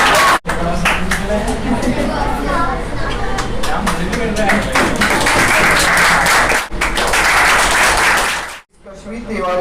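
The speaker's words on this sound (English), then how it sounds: "Big round of applause for her" An audience at a monthly rewards and recognition ceremony claps for an award recipient, dense continuous applause with murmuring and a voice running over it, cut by brief gaps.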